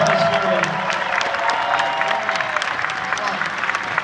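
A large convention audience at Star Wars Celebration Anaheim claps and cheers for Ian McDiarmid and Dennis Muren, a dense steady wash of applause from a big hall, no voices over it.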